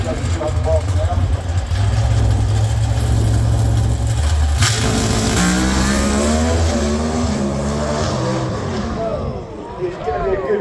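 A drag racing car at Santa Pod Raceway accelerates down the strip with a loud, rising engine roar that climbs in pitch and then fades into the distance. A commentator talks over it throughout.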